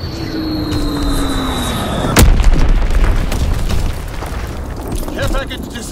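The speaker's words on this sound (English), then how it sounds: "Dropping Fritz X bomb" In a war video game, a Fritz X bomb falls with a descending whistle, then strikes with a heavy boom that rumbles on amid battlefield noise.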